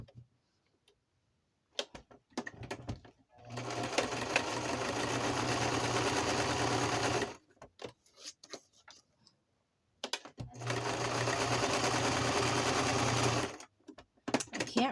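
A sewing machine stitches paper craft ephemera for Christmas journals, running in two steady bursts of whirring motor and fast needle ticking, each about three to four seconds long. Scattered handling clicks fall between the bursts, and no one speaks.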